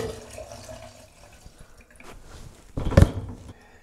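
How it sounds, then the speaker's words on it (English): Hot water splashes and gurgles into a drain, quiet at first, then a louder gush of pouring near the end. "All right, so here's the hot water."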